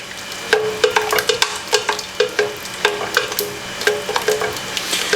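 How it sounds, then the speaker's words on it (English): A spoon stirs thick roux sauce in a pot for caper meatballs, giving a steady run of close scraping, clicking strokes in an uneven rhythm with no talk. "I'm going to stir it with a spoon still"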